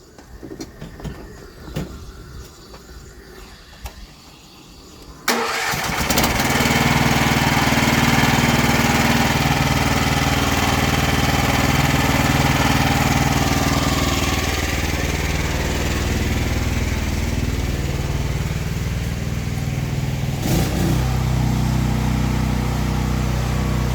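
Small engine on house-washing equipment pulled into life after a few seconds of clattering handling, then idling loud and steady with a slight change in tone near the end.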